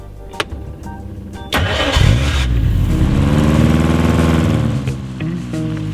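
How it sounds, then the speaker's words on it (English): A 1963 Lotus Super 7 Series 2 engine cranks and catches, then revs up loudly and holds a rising, roaring idle close to the microphone. "I drive a 1963 Lotus Super 7 Series 2."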